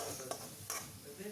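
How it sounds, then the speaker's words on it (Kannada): A masala chitranna mixture fries in a pan with a soft, steady sizzle. Faint scraping and stirring strokes are close by, and the whole sound is quiet. "ಆ ಥರ ಫ್ರೈ ಮಾಡ್ಕೊಳ್ಳುವಾಗ ಮಧ್ಯ ಮಧ್ಯ ತಿರುಗಿಸ್ಕೊಬೇಕು."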